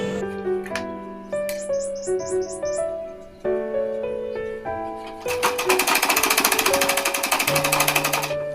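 A small domestic sewing machine pushes through double-layer fabric, its rapid stitching grinding close and loud, mixed with brief higher tones at the start and a dense burst of fast stitches toward the end.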